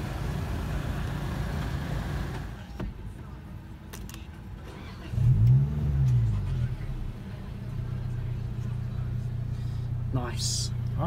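Toyota GR Yaris GRMN (Gazoo Racing) engine revving, a short sharp blip rising and falling in pitch over a steady idle, close by, with brief talk before it.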